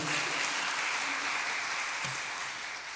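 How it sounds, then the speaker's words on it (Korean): Church congregation clapping together during a Korean Thanksgiving Sunday worship service, a dense, steady round of applause heard from within the hall that fades slightly toward the end. "은혜 주신 하나님께 영광의 박수 할렐루야."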